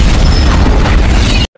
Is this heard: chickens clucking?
no